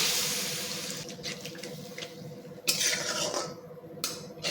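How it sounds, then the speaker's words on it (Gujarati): Water splashes into roasting spices in a cooking pan, a close gush at the start, then bubbling and light utensil clinks as the mixture settles and heats. "તો હવે આપણે એમાં થોડું પાણી નાખીશું"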